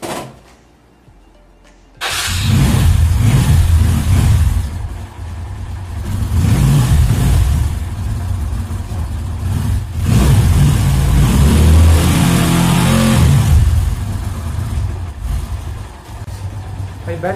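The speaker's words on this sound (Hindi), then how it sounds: "गाड़ी को कभी भी हफ्ते या 4 या 5 दिन में स्टार्ट करते रहना चाहिए" A car that has been sitting unused for days cranks to life, then its engine revs repeatedly in heavy surges and settles back, loud and close throughout.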